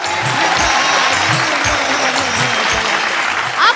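Loud, steady applause from a studio audience at a televised singing competition, a dense wash of clapping that holds throughout, with a rhythmic low beat underneath.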